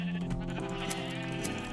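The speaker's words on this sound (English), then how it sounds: "I'm gonna start killing some sheep, Demelli." Sheep in the Minecraft video game bleat repeatedly over a steady game soundscape, with a few short bleats packed into under two seconds and no talking.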